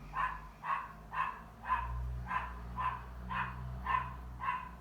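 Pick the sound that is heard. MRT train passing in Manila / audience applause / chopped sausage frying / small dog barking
small dog barking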